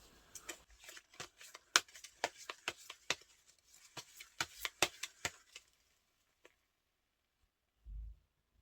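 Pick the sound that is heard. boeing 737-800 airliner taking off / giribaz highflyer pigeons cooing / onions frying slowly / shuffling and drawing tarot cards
shuffling and drawing tarot cards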